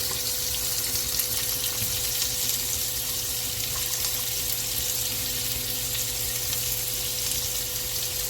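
Chopped onions, green chillies and curry leaves fry in oil with mustard seeds for a pesalu curry, making a steady, dense sizzle close by that sounds almost like running water, with no talking.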